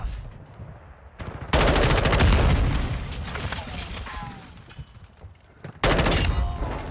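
M4 rifle fire in a Call of Duty match. Loud, rapid automatic bursts come in two main stretches with quieter shots between, and a voice is heard faintly among the firing.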